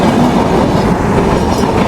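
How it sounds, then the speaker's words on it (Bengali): The Rupsha Express, bound from Khulna to Chilahati, runs through Rupdia railway station at full speed with a very loud, continuous roar and rumble of wheels and carriages right beside the listener. "দুর্দান্ত গতি নিয়ে খুলনা থেকে চিলাহাটিগামী রূপসা এক্সপ্রেস আমাদেরকে থ্রু পাস গেল"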